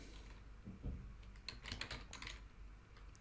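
Typing on a computer keyboard in quick, uneven bursts of light clicks, close and fairly quiet, with brief pauses between runs of keystrokes and no voices.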